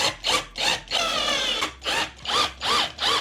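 Screws being power-drilled in at an angle, with about seven short whirring bursts of a drill, one longer sustained run in the middle, close and fairly loud with brief gaps between.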